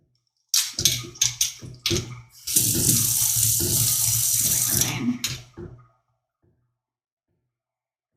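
A kitchen tap runs as a dish that held cinnamon is rinsed, with a few clattering knocks first, then several seconds of loud, steady water splashing into the sink before it shuts off, followed by silence.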